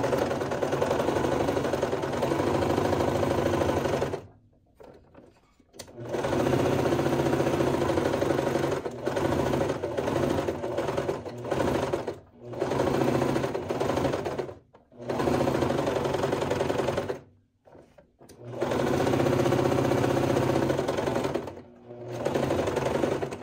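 A sewing machine runs in several long bursts of rapid stitching along a seam on a satin scrunchie, each run broken by short silent pauses, close and loud with no talking.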